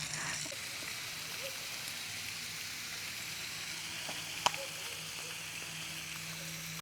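Extra thick bacon fries in a pan with a faint, steady hiss and crackle throughout, broken by one small sharp pop.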